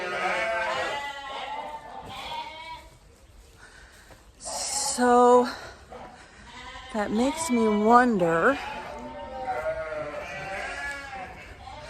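Several sheep bleat loudly and close by, wavering cries coming in bursts, with a person speaking briefly between them.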